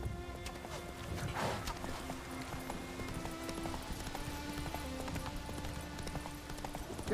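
Hoofbeats of Roach, a horse in The Witcher 3: Wild Hunt, clip-clopping steadily at a run for the whole stretch, with game music and ambience underneath.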